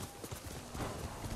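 Horse hooves clip-clop at a run in the samurai video game Ghost of Tsushima, a steady close rhythm of hoofbeats with a brief whinny-like sound and faint voice-like noise underneath.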